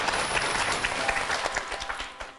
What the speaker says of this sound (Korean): 강현재 변호사의 이야기 박수로 청해드릴게요.